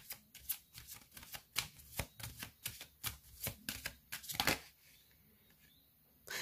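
Tarot cards snap and shuffle onto a table in a quick run of sharp, close papery slaps and flicks, about a dozen in four seconds, before trailing off into quiet.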